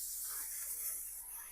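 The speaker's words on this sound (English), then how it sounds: "I'm going to spray the parchment." Cooking spray hisses in one continuous, fairly soft burst onto parchment paper for jelly nougat candy, heard close and steady with no talking.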